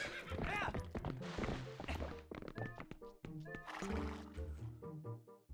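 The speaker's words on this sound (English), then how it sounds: "And so I am now on Epona in Bo's house." Horse Epona in Zelda: Twilight Princess HD whinnies loudly near the start, followed by clip-clop hoofbeats, thuds and game music tones, with a second, quieter neigh later.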